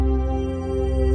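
A synth tone built from a sawtooth oscillator slowly morphs into polygonal wavetable shapes, sounding as one steady, bright, buzzing sustained note with rich harmonics, unbroken and alone for about a second.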